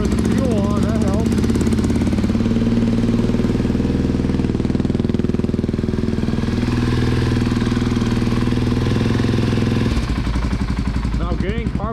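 A DS650 ATV engine runs steadily at idle while warming up, a loud, close, continuous mechanical chug that holds throughout, with a brief rise in revs near the end.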